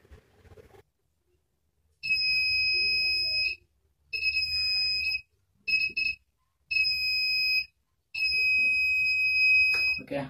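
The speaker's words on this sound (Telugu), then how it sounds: "మన లేజర్ లైట్ అలారం" A homemade laser light security alarm set up in a room sounds a piercing electronic tone in five separate bursts of uneven length, each a second or so, loud and close with short silences between.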